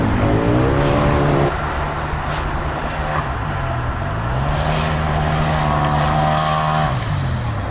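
An off-road side-by-side engine drones steadily while driving, its pitch rising and falling with throttle changes, loud and continuous with no voices.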